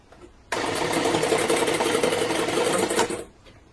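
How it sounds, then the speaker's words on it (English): An electric mixer whisks a batter containing vanilla extract, a steady, loud whirring hum that starts abruptly, runs about two and a half seconds, then cuts off. "So now we're going to mix these together until they're well combined"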